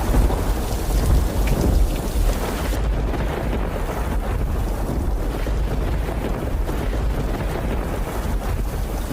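Heavy rain pours steadily with a deep, rolling rumble of thunder throughout, loud and continuous with no voices.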